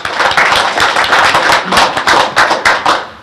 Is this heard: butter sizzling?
no